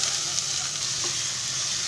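Ground onion and coconut masala sizzling and frying in a hot pan while cooking palak paneer, a steady close crackling hiss with faint stirring, no voices.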